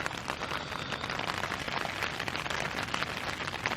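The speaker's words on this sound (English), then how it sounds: "I'm waiting for the rain to stop, hopefully" Steady rain pattering on a tent at an Irish camping spot, a dense continuous hiss of drops close overhead with no pauses and no voices.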